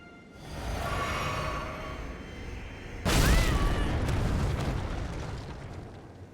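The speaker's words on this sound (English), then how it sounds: "It's an explosion." An explosion effect from a Final Fantasy video game starts as a building rumble, then erupts into a loud, sudden blast about halfway through and decays into a long, rolling roar.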